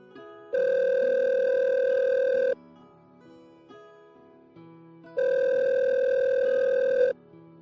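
Telephone dial tone sounding in two long steady bursts with a quiet gap between, clear and close, with no talk.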